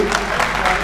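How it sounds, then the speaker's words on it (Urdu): Audience applause at a mushaira poetry gathering, honoring the invited guests; a brief, steady wash of dense clapping fills the moment. "ایک بار تالیاں زوردار ہو جائیں ہمارے مہکانوں کے لیے"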